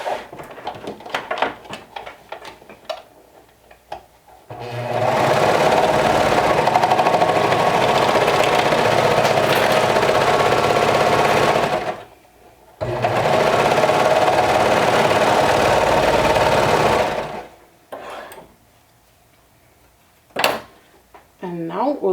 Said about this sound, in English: So now we'll stitch that down with 1/4 of an inch seam allowance.